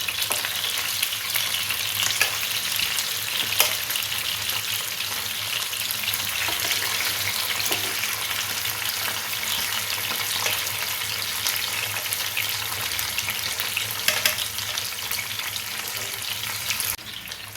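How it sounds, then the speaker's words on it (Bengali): Koi fish fry lightly in oil in a pan over a medium flame, giving a continuous even sizzle with faint crackles and occasional soft stirring, with no voices. "মাছগুলো খুব হালকা করে ভাজবো বেশি ভাজলে মাছটা শক্ত হয়ে যাবে"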